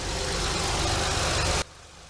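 A 2005 Honda Pilot engine idling just after a knock sensor replacement, a close, steady mid-pitched drone that runs evenly, then cuts off abruptly partway through, leaving quieter background.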